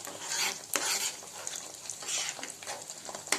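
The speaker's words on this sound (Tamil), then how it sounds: "எல்லாத்தையும் சேர்த்து நல்லா மிக்ஸ் பண்ணிக்குவோம்" Chicken lollipop sauce being stirred in a pan, a continuous rhythmic scraping of a spoon or spatula over a soft frying sizzle, with a sharp clink near the start.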